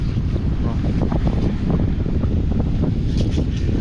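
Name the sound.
wind blowing on the northeast coast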